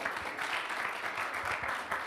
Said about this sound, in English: let a big applause for Klaus Hubner from Yaku Partners.